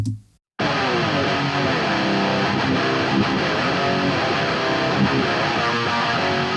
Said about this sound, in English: Pretty classic metalcore tone.